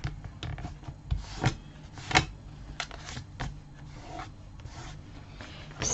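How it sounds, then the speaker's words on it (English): Scrapbook paper edge being burnished on a Kaisercraft 12x12 layout, heard as soft, uneven rubbing and rasping strokes with a few sharper scrapes, close and fairly quiet, no talking. "So I just want to clean it up and burnish that side."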